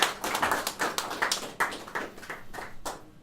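Applause from a live audience, a short burst of many hands clapping fairly close and loud, the claps blending into a dense rippling patter with no voices over it.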